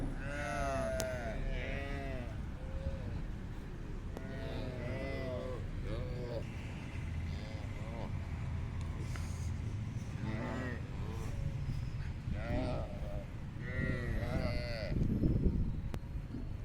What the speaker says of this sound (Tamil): கன்றுக்குட்டிங்களும் வந்து ஆர்வமாக வெயிட் பண்ணிகிட்டு இருக்குது கத்திக்கிட்டு.